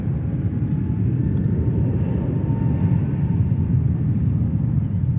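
A Japan Airlines airliner passes at JFK Airport, a loud, broad, steady engine rumble filling the moment without any voices.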